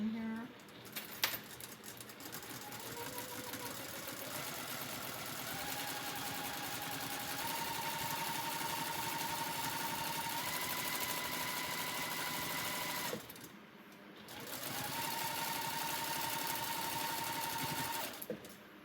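A domestic sewing machine runs in long continuous bursts, stitching down the folded sides of a fabric liner for a small Longaberger basket, its motor whirring steadily and pausing briefly midway before resuming.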